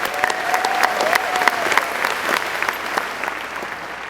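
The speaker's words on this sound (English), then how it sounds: "Now, how about a round of applause for them?" Applause from a graduation ceremony audience rises and holds for several seconds, scattered sharp claps standing out within the steady clapping before it begins to thin, with a faint voice briefly heard underneath.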